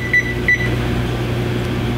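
Two short, bright electronic beeps from a kitchen stove timer, close and clear, followed by a steady low appliance hum.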